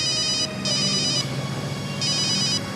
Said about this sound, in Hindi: एसीपी सर का फोन।